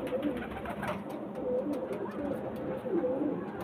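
A pigeon coos softly nearby in a few low, repeated throaty phrases against faint background noise.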